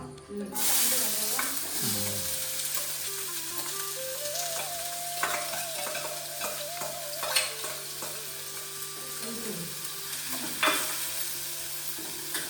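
Onion sizzles steadily as it is stir-fried in a pan for a rural Marathi home meal, with a continuous frying hiss and occasional spatula scrapes and clinks, and no talking.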